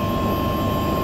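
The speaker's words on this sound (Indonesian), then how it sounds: "barusan dikasih tahu oleh pilotnya bahwa baru nyalain mesin" A steady, loud helicopter engine whine and rotor drone just after startup, heard from inside the cabin, with a constant high-pitched tone over a low rumble.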